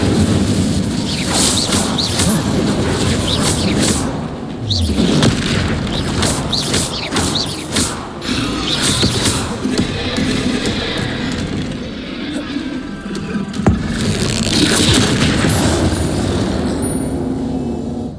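Spell explosions from Hogwarts Legacy, with Confringo and Incendio fire bursts, sounding as a dense run of loud booms and crackling blasts over a steady rumbling bed. A voice calls out spell names under the blasts.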